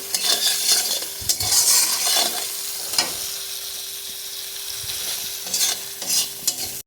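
Spice paste for a thin Bengali tengra fish curry fries and sizzles in a pan, broken by several scraping stirs with a spoon against the metal, close and steady with no talking.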